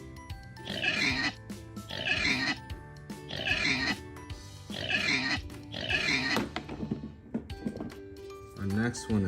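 An animal learning toy sounds a pig's oinks: five evenly spaced bursts of grunting, followed by a quieter pause and one last short burst.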